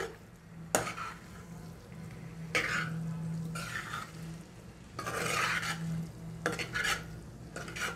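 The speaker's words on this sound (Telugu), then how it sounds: "ఒక ఐదు నిమిషాల పాటు ఇలా మనము కలుపుకుంటూ వేయించుకుంటే సరిపోతుంది" Sago pearls (sabudana) upma stirred and frying in a pan, with a soft sizzle and scattered scraping strokes of a spoon, plus a couple of brief coughs or throat-clearing sounds, nearby and without speech.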